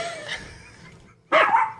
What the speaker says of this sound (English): Somebody shut the fucking dog up.